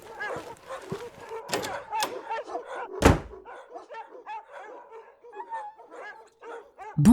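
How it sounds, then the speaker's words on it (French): Australian shepherd dogs and puppies at a breeder's yard yip and whimper in a busy, overlapping chorus of light, high barks, with a loud thunk or slam partway through and a sharp bark at the end. "on est entré dans une grande cour où il y avait plein de chiens et de chiots"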